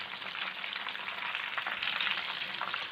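Fish fingers fry steadily in hot oil, a dense, even sizzle at a constant moderate level throughout with no voices.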